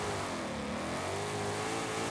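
A 2013 Shelby GT500 in a racing video game does a burnout, its engine revving hard in a continuous, loud, steady roar with other cars' engines blended into the dense sound.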